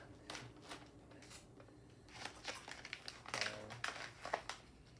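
A bag of Blue Bottle Giant Steps dark-roast coffee beans being unboxed, its packaging crinkling and rustling in soft, close, irregular bursts, with a few sharper crackles toward the end.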